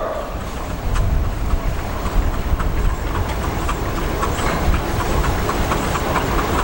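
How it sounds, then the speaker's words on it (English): An Advance 16-50 horsepower steam traction engine runs at a threshers' steam show in Wauseon, Ohio, giving off a steady, loud mechanical chugging with rhythmic clatter and no talk. "Next up, we have an advanced steam engine. It's rated 16 and 50 horsepower."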